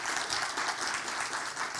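An audience at a public administration talk breaks into a continuous, dense round of applause, a close and even wall of clapping with no talking over it.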